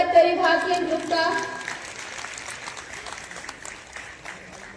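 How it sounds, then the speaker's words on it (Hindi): Audience applause at a state child welfare council function welcoming a performing group to the stage; a brief voice opens before scattered clapping takes over, lively at first and thinning toward the end. "तालियों से स्वागत करें भारतीय ग्रुप का।"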